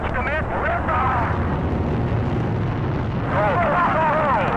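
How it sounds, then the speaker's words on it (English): Liftoff of the first Saturn I rocket: a loud, continuous, broadband roar of engine thrust that holds steady and overwhelms everything else. "the first Saturn I is ready for launch"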